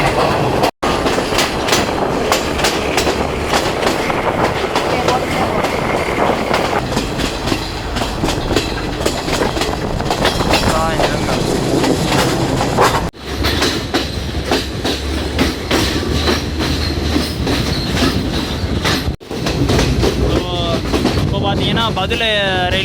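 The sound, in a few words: train running on the Badulla to Colombo route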